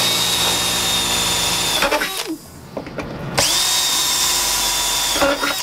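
A power drill whines at high speed while drilling holes in a Sprinter van ceiling for a ceiling bracer, running loud and close, pausing briefly with a few clunks, then spinning up again.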